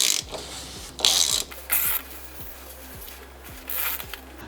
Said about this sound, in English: Now I'm going to take off the oil filter.